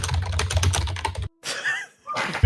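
Rapid clacking of a mechanical computer keyboard, a dense burst of close keystrokes that stops briefly, then short scattered clicks resume, with a voice talking over part of it.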